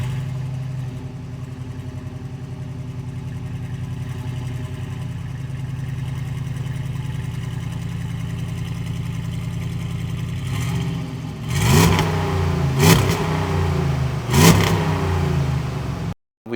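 A Hemi V8 swapped into a Jeep JK idles with a steady, close low rumble, then gives three sharp throttle blips near the end before cutting off abruptly.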